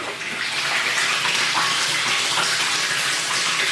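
Water from a Spectra Pure filter system pours steadily into a container, a continuous loud rushing splash like a running tap, with no talking.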